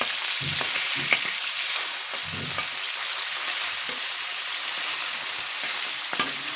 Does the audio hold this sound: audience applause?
no